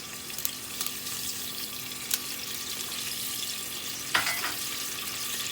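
Halved dried red chillies sizzle in hot oil with a steady, even crackle. A couple of soft clinks from a utensil are heard, and no one speaks.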